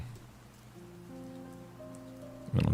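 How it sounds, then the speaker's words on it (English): A relaxing rain-sounds recording plays softly in the background as a steady wash of rainfall, with quiet tonal hum underneath and a brief louder burst at the very end. "Okay, so we have some nice relaxing rain sounds here in the background."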